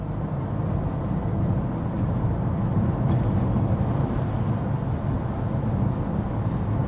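Cabin of a Porsche Panamera 4 with a 300 hp engine, accelerating at about 105 km/h on the highway: a steady low engine and road drone with soft wind noise, constant and even throughout, no voices.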